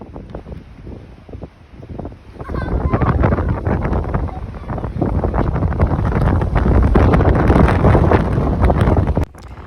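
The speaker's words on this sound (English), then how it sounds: "It's so windy!" Strong wind buffeting the microphone on an exposed Scottish coast near a sea-worn castle, a loud continuous roar that swells after a quieter start and cuts off abruptly near the end.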